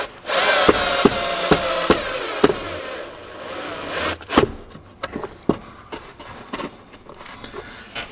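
Power drill driving screws into a plastic tablet holder on a Can-Am X3: a close, loud whirring burst with clicking bites lasting a few seconds, then scattered knocks and handling taps, with no talking.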